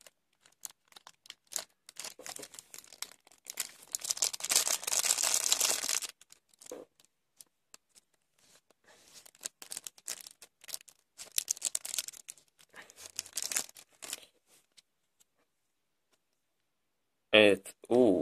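A FIFA 365 card packet wrapper crinkles and rustles up close in irregular bursts as the cards are pulled out, with quiet pauses between and a few sharp handling sounds near the end.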